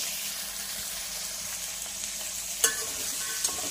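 Mixed vegetables for a Kolam rice pulao sauté in a pan with a constant broad sizzling hiss, broken by a couple of brief spatula scrapes, close up and without voices.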